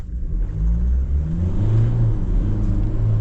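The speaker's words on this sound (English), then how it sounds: "It's just the reaction of the engine and throttle, and then how it behaves after that." A 2025 GWM Cannon XSR 2.4T pickup engine accelerating at a steady quarter throttle, heard from inside as a loud, low rumbling drone whose pitch rises gradually and smoothly as the revs climb, with no talk.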